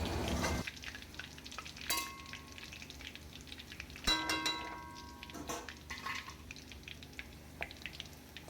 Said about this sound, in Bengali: এইভাবেই আমি প্রত্যেকবারের পকোড়াগুলো ভেজে নেব।